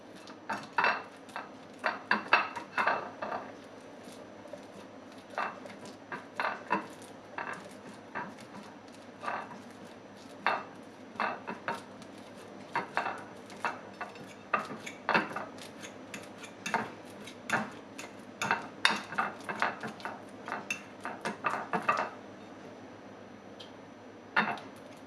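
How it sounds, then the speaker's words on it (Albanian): Ripe banana is mashed with a fork on a plate, producing repeated light metallic taps and scrapes in an uneven rhythm against a quiet background. "Në një pjatë e shtypim me pirun."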